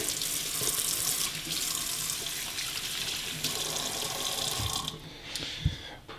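Tap water runs steadily into a sink while hands are washed before cleaning a telescope mirror, a close, continuous broadband hiss that thins out near the end with a few small splashes and clunks.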